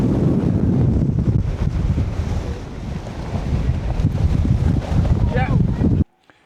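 Strong wind buffets the microphone on the summit of Snowdon, a loud, continuous low roar with gusty swells for about six seconds before it cuts off abruptly; no one speaks.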